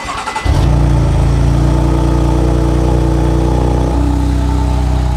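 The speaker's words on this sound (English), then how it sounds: "this exhaust is a lot more quiet." A car engine starts up and settles into a loud, steady exhaust drone close by, with a slight shift in pitch near the end.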